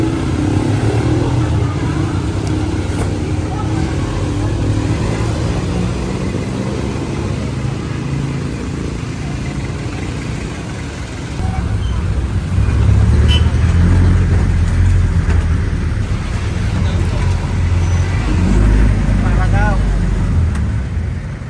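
Rumbling engine and road noise from inside a moving vehicle, growing louder as it accelerates, with people talking over it throughout.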